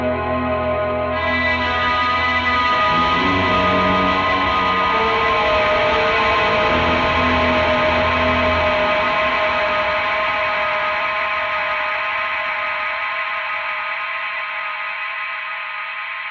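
A Death by Audio reverb pedal, a limited run of 333 units, pushed to the verge of self-oscillation: a dense, sustained wash of ringing tones and high metallic overtones that swells and slowly fades over many seconds, loud and close, with no voices.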